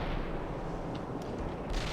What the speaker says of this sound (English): Was that fuel bombs coming in?